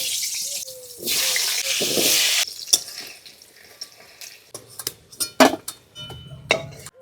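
Cut potatoes hit hot mustard oil with turmeric in a pan on a wood-fired clay stove, giving a loud burst of sizzling followed by scattered metallic clanks and scrapes of stirring.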